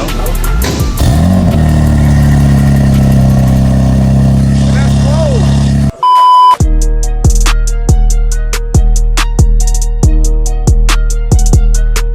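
A loud engine in a 700hp BMW G80 roars and revs continuously, then after a brief dropout a rhythmic, pulsing exhaust note takes over with regular sharp bursts.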